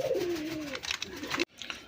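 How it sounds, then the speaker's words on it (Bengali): Native Bombay pigeons coo in a low, rolling series of close calls, one drawn-out coo followed by shorter ones before a brief cut to quieter rustling. "এটা আমাদের দেশীয় বোম্বাই কবুতর"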